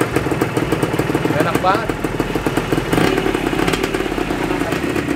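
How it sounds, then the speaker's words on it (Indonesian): A restored Suzuki TS125 motorcycle engine runs with a rapid, steady two-stroke putter, close and continuous, while a person talks briefly over it. "Tapi yang jelas motor ini udah hidup."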